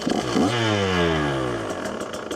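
KTM gas dirt bike engine, started after sitting unused for about four months, revs up and settles into a steady, loud running drone close by, with no talking.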